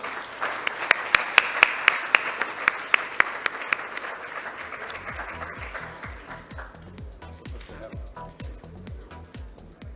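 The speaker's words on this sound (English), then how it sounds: "with a huge round of applause" Conference audience applauding at a 2018 tech conference in Visakhapatnam: a few sharp individual claps at first, then building into steady rhythmic clapping with a thumping beat of music alongside.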